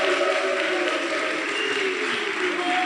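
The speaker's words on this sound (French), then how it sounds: "Donc il faut les applaudir encore une fois." An outdoor concert audience applauds an orchestra's musicians, a steady wash of clapping from a sizable crowd that carries on evenly for a few seconds.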